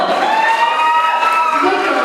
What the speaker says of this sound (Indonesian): Beri tepuk tangan sekali lagi kepada Agam Bilal Farano